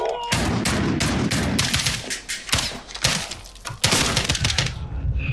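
Rapid bursts of gunfire in Call of Duty Modern Warfare, loud close shots in clustered volleys with brief gaps, building into sustained automatic fire toward the end.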